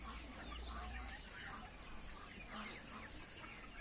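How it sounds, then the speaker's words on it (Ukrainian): Black roosters in a poultry yard cluck and mutter, a soft, continuous flock chatter heard faintly and from some distance, with no talk over it. "А ось із чорних, ось перед вами, тут практично самі, самі півні."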